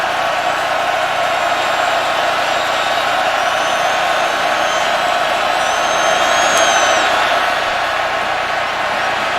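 A stadium crowd roars at a college football game between North Carolina and Virginia Tech, a dense, steady wall of cheering that swells slightly louder toward the end, with faint whistles or calls rising above it.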